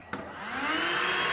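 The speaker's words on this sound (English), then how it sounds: "just take your shop vac" A shop vac starts up and settles into a loud, steady whine, sucking dust and debris out of a woodcarving dust collector, sustained alone without talk.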